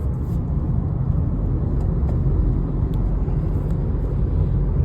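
Tata Nexon Pure Plus 2025 cruising in sixth gear on an empty expressway, a steady low engine and road rumble with tyre hiss, constant and close from inside the cabin, no one talking.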